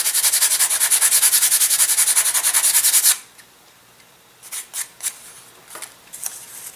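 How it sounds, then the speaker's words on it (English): Sandpaper rubbed rapidly back and forth across a balsa part of a Super Protege elastic-launched glider, a steady rhythmic scratching for about three seconds, then a few faint scattered rubs and taps. "And we'll sand a flat right"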